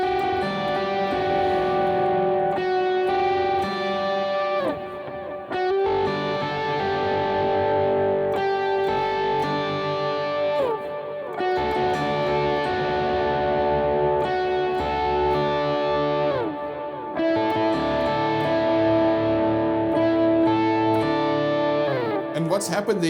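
An electric guitar with effects strums a rhythmic pattern across four chords, loud and sustained throughout with steady chord changes.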